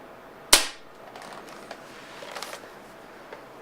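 An Air Arms HFT 500 PCP air rifle fires one sharp, loud crack, followed by faint clicks and handling noises.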